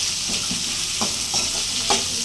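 Ingredients for rice rava upma fry in a small amount of oil, a soft steady sizzle with a few light stirring taps from a spoon, close and fairly quiet.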